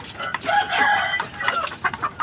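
Brazilian Asel hen with green legs, a large tall young bird, clucking in short repeated bursts, fairly close and clear with no talking.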